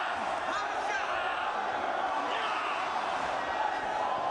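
Wrestling crowd in a packed building chanting for Jushin Thunder Liger during a match against Homicide, a dense wash of voices from a distance that stays loud and steady throughout.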